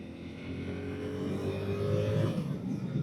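A Yamaha R7 motorcycle engine hums steadily while riding, its tone climbing and swelling slightly louder as it accelerates, with continuous wind and road noise, no talking.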